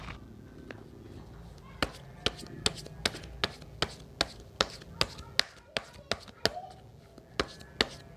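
Tarot cards shuffled by hand, making a run of crisp, evenly spaced taps and slaps close by, with quiet room sound behind them.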